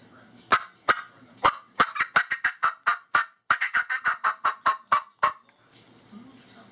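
A handheld turkey call imitating a hen's fly-down cackle, a rapid series of sharp, loud clucks that speed up in an irregular rhythm and then stop, heard alone and close.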